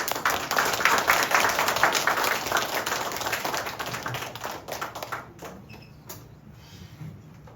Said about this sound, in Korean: 좀 박수로 이렇게 환영해 주시기 바랍니다